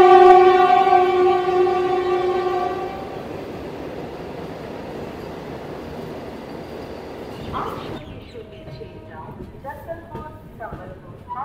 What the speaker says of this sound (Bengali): বন্ধুরা দেখুন কী ট্রেন আমাদেরকে ওভারটেক করছে